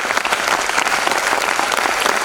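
A packed audience at a senior-division English debate claps loudly and steadily for the debaters, a dense, even wash of applause filling the room throughout.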